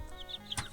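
Chickens in a rural Thai mountain village clucking in short soft calls, with one brief louder squawk near the end, close by and without talk.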